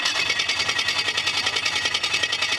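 Twin-turbo Chevrolet Vega engine cranking over on the starter, a steady fast whirring rhythm that stays loud and close throughout without catching.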